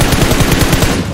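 Rapid automatic gunfire in the battle royale game PUBG Mobile, a loud, close burst of about a dozen evenly spaced shots in quick rhythm with no talk.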